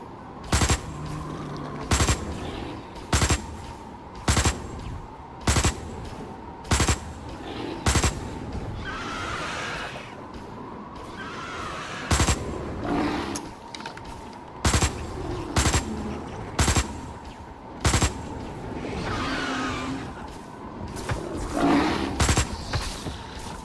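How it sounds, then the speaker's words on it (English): Gunfire in the sci-fi survival game Osiris: New Dawn: loud, sharp single shots spaced about a second apart in repeated runs, over a steady ambient hum with occasional growling creature roars between. "I just shot one of the ostriches by mistake"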